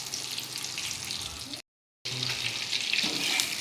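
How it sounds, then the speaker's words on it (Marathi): Shipla shellfish sizzles gently on a low gas flame with a steady hissing crackle that briefly cuts to silence midway, then resumes with light scraping and faint voices behind it. "हे बघा, तसेच स्लो गॅसवरती हे पण फ्राय करायचे"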